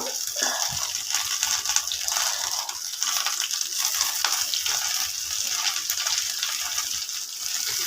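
Washed thuthuvalai leaves frying in a pan give a steady, dense crackling sizzle that stays close and even throughout, with no voices.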